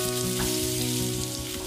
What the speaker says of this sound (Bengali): এবার আমাদের এই পটলগুলোকে মিডিয়াম ফ্লেমে 3 থেকে 4 মিনিট ধরে হালকা হাতে একটু ভেজে নিতে হবে